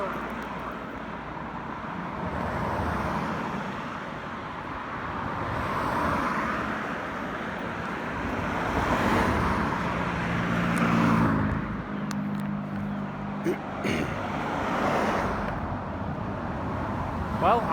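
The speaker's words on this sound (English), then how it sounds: "rather loud with all the traffic" Road traffic in Leeds rumbles steadily, swelling as vehicles pass nearby and staying fairly loud throughout, with a few sharp clicks near the end.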